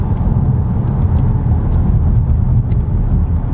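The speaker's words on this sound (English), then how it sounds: "Get a bit of tyre noise" Steady broadband road roar from 20-inch tyres on tarmac, a continuous low rumble heard from inside a moving 2021 Kia Stinger GTS, with no talking.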